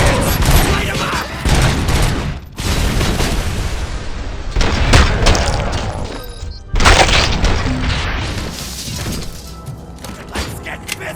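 Heavy gunfire in the Robocop Rogue City video game, with loud rapid bursts, booms and shattering impacts arriving in waves, mixed with shouting voices.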